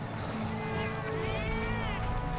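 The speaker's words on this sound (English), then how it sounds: "the cats make that irritating noise they make in all the games that have cats" Cats meowing in the handheld game Monster Hunter Freedom Unite on iOS, a few rising, whiny calls layered over a continuous game music and effects bed at steady loudness.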